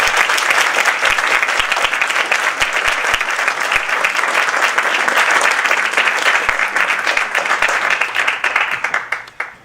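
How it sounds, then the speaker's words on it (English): A crowd at a film screening Q&A gives sustained, dense applause that stays loud for nearly ten seconds before tapering off at the end. "A big round of applause for Sylvia."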